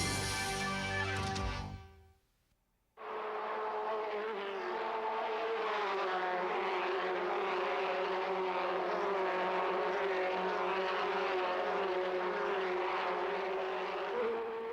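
A race car engine at a race track, a loud steady buzzing whine that holds at one even pitch for most of the stretch after a short pause, with no voices over it.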